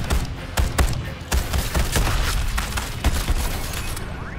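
Rapid gunfire rattles through a firefight in the video game Suicide Squad: Kill the Justice League, with loud overlapping bursts, heavy thuds and booms arriving in uneven clusters close by.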